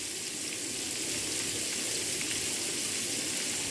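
Vinegar poured into a sizzling fish sauce in a frying pan, giving a steady, bright crackling hiss that runs unbroken and close for the whole stretch, with no talking.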